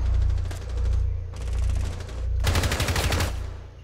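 Rapid automatic gunfire in a Rainbow Six Siege match, with three bursts of fast-repeating shots over a low background hum.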